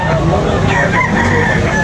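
Chickens and roosters at a busy morning chicken market, with dense overlapping clucking and crowing close by in a continuous noisy din.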